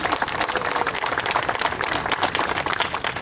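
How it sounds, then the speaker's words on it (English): An audience at a campaign announcement for Secretary of State gives a sustained round of applause, with dense steady clapping from a crowd, loud and continuous throughout, with no speech over it. "everybody give her a big round of applause"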